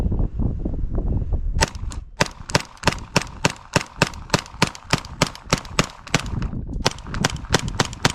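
Real firearms fire in a rapid series of sharp, loud shots at a range, a few spaced cracks giving way to a fast string of about two dozen evenly paced bangs.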